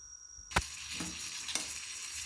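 Onion pieces fry in oil with a soft, steady sizzle, broken by a sharp clack and a couple of lighter stirring knocks.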